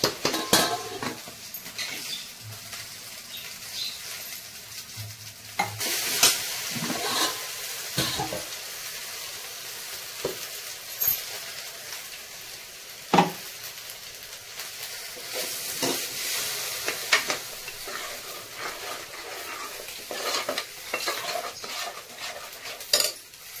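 A spoon scrapes and clinks around a pan as a masala mixture is stirred and fries, with irregular metallic knocks over a soft, continuous sizzle and no voices.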